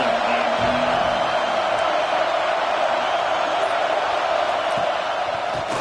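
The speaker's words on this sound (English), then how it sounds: "This crowd ready to make its presence known." A stadium crowd at a college football game roars in a continuous, dense wash of cheering and whooping that fills the whole stretch without a break.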